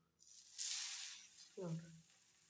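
North Karnataka-style thalipattu flatbread hits an oiled hot pan with a sharp, hissing sizzle that swells and slowly fades, while a voice speaks briefly near the end.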